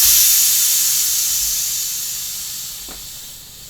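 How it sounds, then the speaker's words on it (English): Air hisses steadily out of a bicycle's back tire as it is deflated, loud and close at first and gradually fading as the pressure drops. "we're going to release the pressure in the back tire so we can sneak that past the brake"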